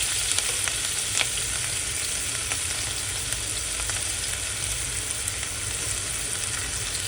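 Chopped onions for mutton pulao sizzle steadily in a hot pan, with occasional stirring scrapes over a constant broadband crackle, close and fairly loud with no talking.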